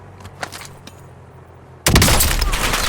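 Dense burst of gunfire in Call of Duty: Warzone erupts suddenly after a quiet stretch of faint clicks, continuing loud and sustained as overlapping rapid shots to the end.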